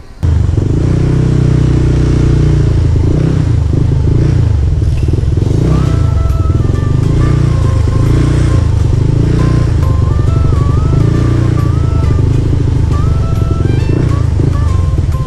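A motorcycle engine drones loudly and steadily while riding, with a rough rumble and some shifts in revs throughout.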